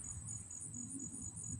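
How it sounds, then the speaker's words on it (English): Outdoor crickets chirp in a faint, continuous high trill with an even pulsing rhythm, set over a quiet low rumble of the night surroundings. "I like to listen to the crickets"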